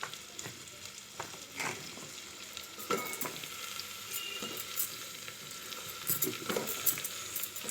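Chopped garlic, ginger and vegetables fry in a pot for chicken stew, a fairly quiet sizzle punctuated by irregular spoon scrapes and clinks from stirring, with no talking.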